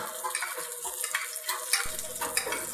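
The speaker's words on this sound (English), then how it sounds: "we're throwing hot fat or hot butter, as you can say, on top of the salmon fillet" Hot butter spooned over a salmon fillet sizzles steadily in a pan, a close, continuous crackling frying hiss with soft scraping stirs and small spattering bursts throughout.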